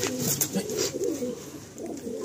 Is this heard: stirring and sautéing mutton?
no